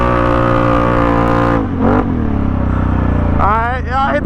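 A four-wheeler ATV engine roars close and loud as it drives fast, its pitch dipping briefly mid-run before climbing again, while a rider whoops over the motor.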